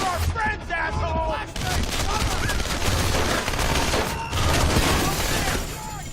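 Rapid, dense gunfire in Splinter Cell Conviction, bursts of shots continuing throughout with shouting voices mixed in the fight.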